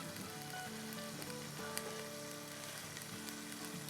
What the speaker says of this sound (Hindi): आधा कप तेल डालते हैं